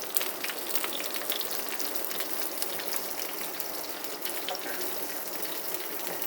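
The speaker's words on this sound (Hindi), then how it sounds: "भिंडी डालते हैं इसके ऊपर।" Okra dropped onto a hot tawa sets off a steady, dense crackling sizzle that runs continuously throughout, fairly close and with no voices over it.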